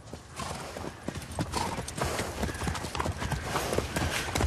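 Horse hooves clip-clop steadily and loudly on hard ground in a period street scene, with a dense, busy rhythm of strikes and little talk over them.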